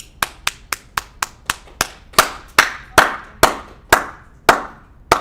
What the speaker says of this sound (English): I'm waiting for the rest of you to start clapping as well.